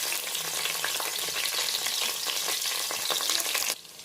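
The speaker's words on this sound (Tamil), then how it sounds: "இப்போது நம்ம நறுக்கி வச்ச 2 வெங்காயத்தை சேர்த்துக்கலாம்." Two chopped onions frying in hot oil with curry leaves and spices for a green peas coconut pulao, a dense continuous sizzle with stirring scrapes, close, ending abruptly into quieter hiss.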